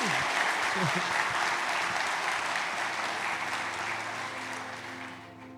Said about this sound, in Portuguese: vocês aplaudem baixinho, é para Jesus, não é para mim, então faça direito